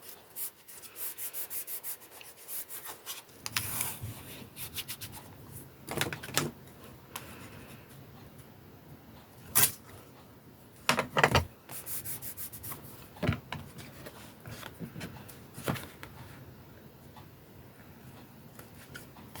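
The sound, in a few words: cutting with scissors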